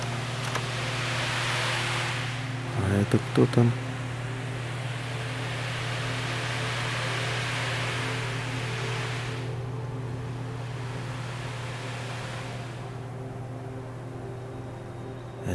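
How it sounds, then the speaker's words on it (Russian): A foley recreation of the sea: steady broadband wave wash with a low hum under it, a brief clatter near the start and a short spoken question, the surf then fading in stages. "Шум моря"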